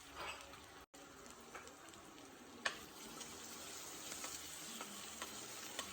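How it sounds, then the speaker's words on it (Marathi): Crushed ginger and garlic sautéing with onion in a pan, a faint steady sizzle with occasional light stirring clinks, quiet and close. "परतून घ्यायचं व्यवस्थित"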